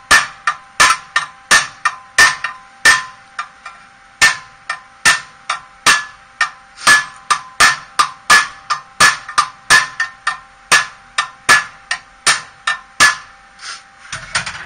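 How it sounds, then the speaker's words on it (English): A hammer beats a mild steel intake manifold port for a Ford 250 inline-six into shape, striking about thirty loud, close, ringing metallic blows in a steady but uneven rhythm. "just go a little bit at a time, and beat the thing into shape"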